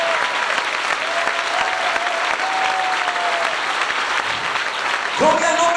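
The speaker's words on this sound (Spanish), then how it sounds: "Den ese aplauso si es para Él." Church congregation applauding at a Pentecostal retreat service, a steady wash of clapping hands throughout, with a sustained musical tone underneath and a brief swelling chord near the end.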